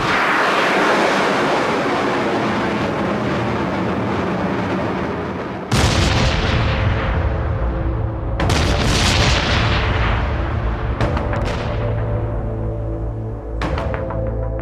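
Bombardment explosions in Afghanistan: a sustained rumbling roar, then a series of sharp, loud booms with long decaying rumbles, each blast alone with no talk.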